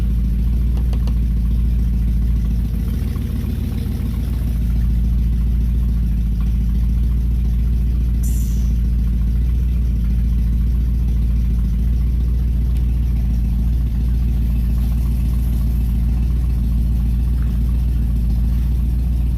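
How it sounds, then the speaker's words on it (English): A 1969 Buick Skylark GS engine idling close by, a loud, steady low rumble holding evenly throughout with only slight fluctuations. "I think she'll idle now"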